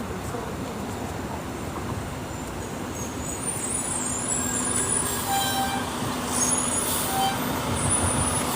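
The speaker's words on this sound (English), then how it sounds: "here comes a fire truck" A fire truck rolls past on a street, its engine rumbling steadily at moderate distance with faint high tonal notes drifting over the traffic noise, growing slightly louder toward the end.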